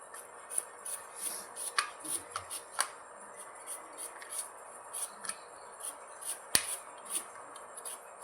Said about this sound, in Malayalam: നമുക്ക് സവോള നൈസായിട്ട് അരിഞ്ഞെടുക്കാം.